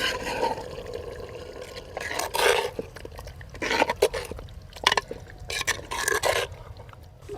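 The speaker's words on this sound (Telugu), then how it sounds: "నాలుగు గ్లాసుల వాటరు యాడ్ చేసుకుందాం." Water is poured in several splashy, gurgling bursts into a pot of chicken pulav, with short pauses between pours and no speech.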